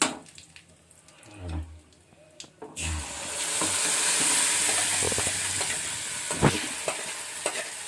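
Curry leaves drop into hot oil for a suji rava dosa chutney and burst into a loud, bright sizzle that goes on crackling steadily, after a few soft clunks of a pan and spoon.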